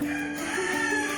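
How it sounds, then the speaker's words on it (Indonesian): A chicken clucks and crows close by, a brief throaty call with a sustained crowing tone over faint background sound, with no talking. "Ada ayam lagi."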